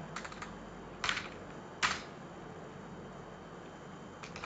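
Keys on a computer keyboard are tapped sparsely and quietly, with a few soft clicks and two sharper keystrokes in a near-silent room.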